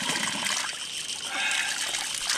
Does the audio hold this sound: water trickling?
yes